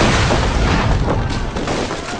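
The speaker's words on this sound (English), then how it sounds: "it also gave us an opportunity to include some historical exploding barrels" A black powder barrel explodes in the Assassin's Creed 3 video game, producing one loud, sustained boom with a dense rumbling roar that barely fades over its length.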